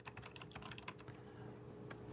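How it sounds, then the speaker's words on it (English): Quiet, rapid keystrokes on a computer keyboard as an address is typed in, soft clicks clustered in a burst over a steady faint hum, with no talking. "I'm going to go ahead and type in the address for our listing."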